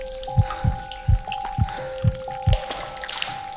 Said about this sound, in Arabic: سمعت تنقيط المية من السقف